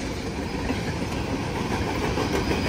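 Green box cars of the Wheeling and Lake Erie Railroad roll steadily past close by, a continuous loud rumble of wheels on rails with faint clickety-clack and no voices.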